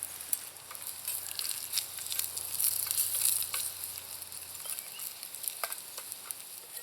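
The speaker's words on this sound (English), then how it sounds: "See, just frying." Hot oil sizzles and crackles steadily up close as pine chips fry, with scattered pops and a faint low hum in the background.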